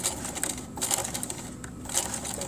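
Sewing machine stitching forward along a 1/4-inch quilt seam for a five-pointed star block, a steady fine mechanical whir with faint needle ticks throughout, moderately quiet and with no talking.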